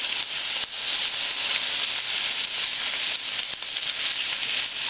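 Potatoes frying in a pan with carrot and champignon mushrooms, giving a steady, loud, dense sizzle that holds evenly throughout with no talk.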